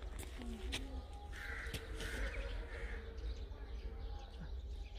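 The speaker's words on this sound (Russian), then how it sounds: "Это вот грачи или кто-то? А это, да, наверное, грачи, скорее всего. Или вороны." Rooks or crows caw a few times in a Gorky Park on a quiet morning, distant and faint above a low steady outdoor hum, with other birds chirping softly.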